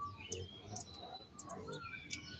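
Faint bird chirps and thin whistles come from a distance, scattered irregularly over a quiet outdoor background in Southern California.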